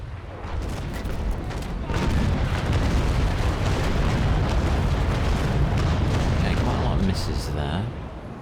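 Heavy ship cannons fire during a naval battle in the age-of-sail game Naval Action aboard the Redoutable, a loud sustained rumbling barrage of booms lasting several seconds.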